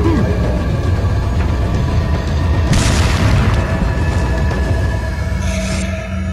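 Heavy booming blasts from bombing in the video game Resident Evil 4 roll on steadily as a loud, continuous rumble, with a brighter burst swelling midway and another near the end.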